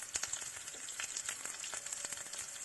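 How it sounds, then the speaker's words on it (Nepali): Fenugreek seeds frying in hot oil until black for a Nepali potato and pea pickle, giving a close, steady crackling sizzle with small pops throughout. "मेथी दाना पुर्याउनुपर्छ कालो कालो हुने गरी।"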